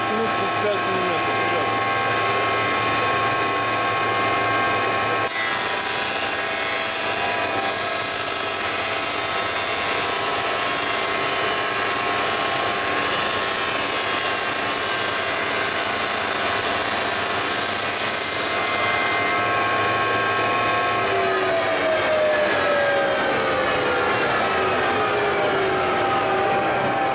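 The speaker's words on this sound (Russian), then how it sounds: "Включили мы наш рисмус, включили циклон, шумно сейчас в цеху." A thickness planer and a dust cyclone run together in a woodshop, a loud, continuous machine drone with a high whine that shifts as a board feeds through.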